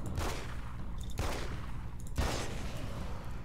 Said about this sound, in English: And then I'm going to shoot in the head.